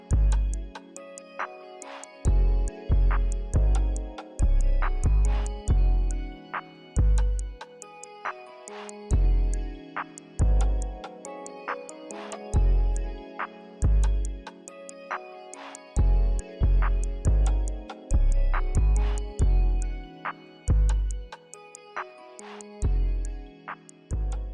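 A plugg-style hip hop beat plays alone, with punchy deep bass hits and kicks in a bouncy, syncopated pattern under a bright, repeating melodic layer and crisp ticking hi-hats, loud and continuous.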